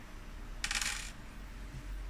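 Dice rattle briefly during a tabletop Core Space battle game, a short bright clatter of a couple of dice on a hard surface, quiet and alone.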